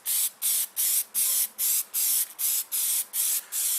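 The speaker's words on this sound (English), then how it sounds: "we're going to take our air filter oil and we're just going to spray it in each and every one of these little crevices here" Air filter oil sprays from an aerosol can onto the pleats of an aftermarket air filter in nine short, evenly spaced bursts of loud hissing, close up and with no talk.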